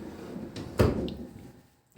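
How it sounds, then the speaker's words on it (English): A door in a bathroom of a house in Sagada thuds shut once, close by, with a brief rattle after the impact before the room falls quiet. "Close the door."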